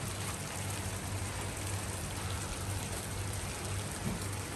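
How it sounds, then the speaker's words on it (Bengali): Steady, continuous rain falls on a flooded street in Bahrain before dawn, a dense even hiss with spattering drops and a low hum beneath, with no voices. "বৃষ্টি হইতেছে অনবরত।"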